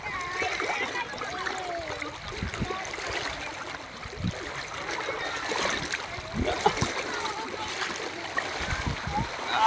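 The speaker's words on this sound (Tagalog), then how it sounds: "Hindi biro yung agos." A strong river current rushes and splashes steadily nearby, while people, including children, talk and call out over the water.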